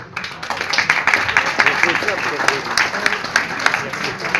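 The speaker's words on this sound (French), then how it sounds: "Là, il y a plus de femmes qui applaudissent que d'hommes." An audience at a French political speech applauds, dense continuous clapping from a crowd that stays loud and even throughout.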